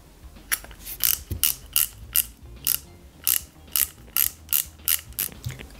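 A screwdriver drives small screws into a die-cast Peugeot 205 GTI 1.9 model kit, producing a steady series of sharp ratcheting clicks about every half second, close and crisp, with no talk.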